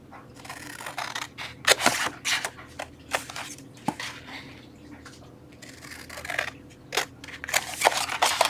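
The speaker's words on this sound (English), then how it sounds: "Now you're going to do the same exact to the top. So we're going to flip it around. We're going to cut our score lines." Score lines are cut into a cardboard box in a series of irregular, sharp snipping and slicing strokes, close and crisp, with short pauses of handling noise between cuts and no talking.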